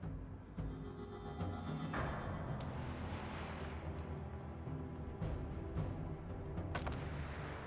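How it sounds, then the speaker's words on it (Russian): Gunfire in the war survival video game This War of Mine: a few sharp, booming shots with rumbling echo over a low, droning ambience. "Выстрел."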